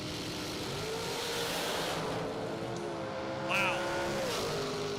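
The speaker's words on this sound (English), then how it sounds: "Kevin Wilson hit the throttle and smoked the tires." Bracket drag race cars launching hard with a sustained loud engine roar and tire smoke, the throttle held wide open and the pitch climbing, with a commentator's voice over the noise.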